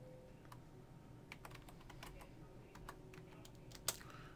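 Computer keyboard keys tapped while entering a password for a virtual machine, a sparse run of soft, close clicks scattered over a quiet room hum, with no talking.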